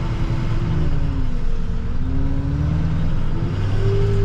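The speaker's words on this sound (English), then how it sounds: "Oh, we got a school bus here." A vehicle engine rumbles loud and close on a snowy road, a steady low drone with slight pitch shifts as it moves past, with no talking.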